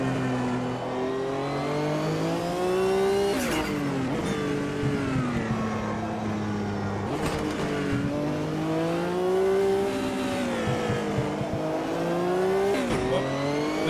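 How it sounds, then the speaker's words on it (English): Race car engine in the sim racing game Automobilista 2, revving hard with wavering pitch as the rear wheels spin, with gear-shift drops and rising engine notes, loud and continuous throughout. "We're too wide there and got a wheel spin now."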